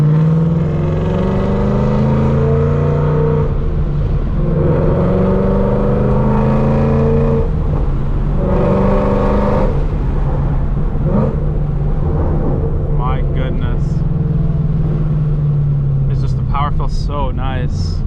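Whipple supercharged Ford Mustang GT engine rumbling and revving loudly and steadily throughout, with rising and falling tones under someone talking over it.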